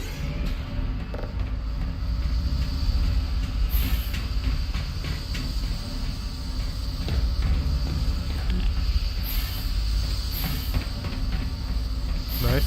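Train in a video game depot area, a continuous rumbling rail noise with creaks and mechanical clanks, steady and fairly loud for the whole stretch.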